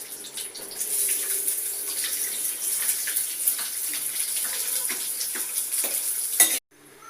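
Onions fry in hot oil with mustard seeds, a loud, close, steady hiss of sizzling with faint stirring scrapes, cutting off sharply near the end.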